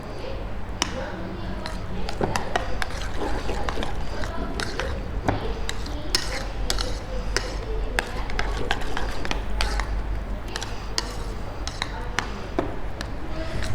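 Egg mixture with black pepper and milk is whisked in a bowl, the rapid clinking strokes of utensil against bowl running steadily throughout, close and fairly loud.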